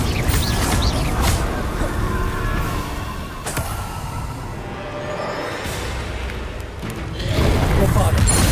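A fiery Confringo spell blast in Hogwarts Legacy bursts with loud, thumping booms over dense game noise, with combat rumble continuing throughout and another surge near the end; a voice calls out over the action.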